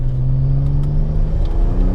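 A BMW 335i with the N54 engine and a hybrid turbo pulls uphill under load, giving a loud, close, steady droning engine note with a rising harmonic whine and rumbling exhaust, with no talking over it.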